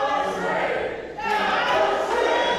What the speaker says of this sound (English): This crowd chanting that was 3